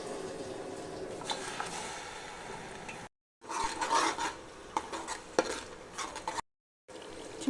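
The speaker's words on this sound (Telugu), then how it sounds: "ఆయిల్ వేసాను ప్యాన్లో. ఇంకా ఆనియన్ పేస్ట్ యాడ్ చేస్తున్నాను." Onion paste being stirred in hot oil in a pan, with scraping and clinking of a utensil against the pan over a low sizzle, interrupted by two brief silent gaps.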